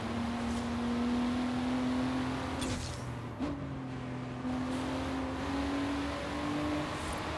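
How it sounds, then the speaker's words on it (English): Nissan Skyline GT-R engine heard from the cabin in Forza Horizon, a steady droning hum that holds its pitch, dips briefly with a short shift-like break, then climbs gently again, moderately loud with no talk. "They've done a really good job with the interior sound of this car."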